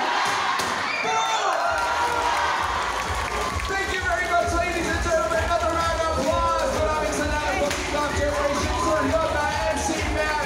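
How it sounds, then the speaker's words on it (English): A gala-night audience at a P-pop Generation event claps and cheers loudly and steadily, with high excited shouts and voices rising out of the sustained applause. "Let's give them a big, big round of applause."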